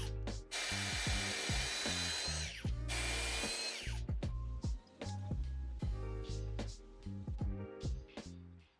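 A power drill drives screws into an oak board offcut being fitted to a cupboard, with a long continuous whir followed by shorter, choppier bursts of drilling close up.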